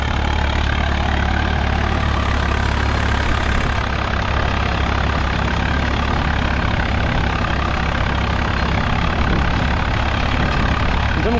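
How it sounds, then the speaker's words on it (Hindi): A tractor engine runs steadily at a constant loud drone, close by, with no pauses. "अब नॉर्मल होगा चला ट्रैक्टर एकदम"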